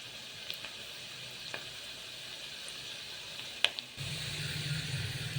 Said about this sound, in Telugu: ఆనియన్స్ అనేవి బాగా బ్రౌన్గా క్రిస్పీగా ఫ్రై అయ్యేటట్టు చూసుకోండి.